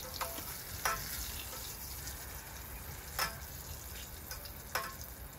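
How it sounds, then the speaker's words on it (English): A cicada fries in a pan with a steady, close sizzle, marked by a few sharp pops and crackles, and no one speaks. "So we'll just give out a few seconds here to kind of fry up."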